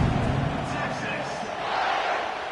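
A football stadium crowd during a game kickoff, a broad continuous roar of many voices swelling and easing, with an announcer's voice talking over it.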